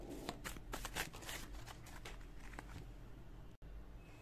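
Tarot cards shuffled by hand in a quiet room, a run of soft riffling flicks and taps that thin out toward the end, with a brief dropout near the finish.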